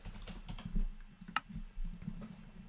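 Keys on a Mac computer keyboard are typed in a short, uneven burst of soft clicks and taps, close by and fairly quiet, with no talking.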